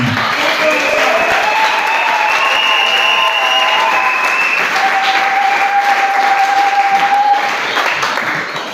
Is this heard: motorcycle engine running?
no